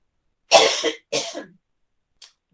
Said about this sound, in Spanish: me dio la tos